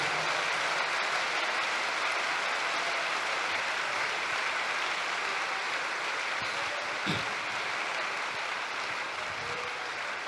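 An audience applauds steadily throughout a church service, dense clapping filling the room at an even level with no talk over it.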